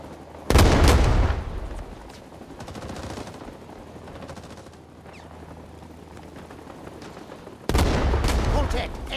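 Bursts of enemy fire rattle during an outdoor airsoft game, two loud sustained volleys of rapid shots near the start and near the end, with quieter scattered pops between them.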